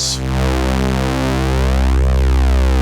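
A steady, buzzy synthesizer drone from an oscillator sampled on an Elektron Syntakt holds one pitch, rich in harmonics, loud and continuous with no pauses.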